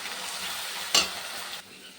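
Spice masala frying and being stirred in a pan with onions for katla fish kalia, a steady close sizzle with one sharp hiss burst midway, then quieter.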